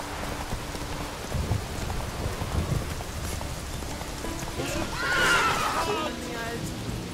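In The Witcher 3, the horse Roach gives a brief, rising whinny partway through, heard over steady, hissing rain and a low rumble of thunder that fill the whole scene.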